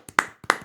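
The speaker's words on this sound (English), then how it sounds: "Everyone just clap." Two quick double claps ring out close and dry, each pair a soft tap followed by a sharper hand clap, with a brief pause between the pairs.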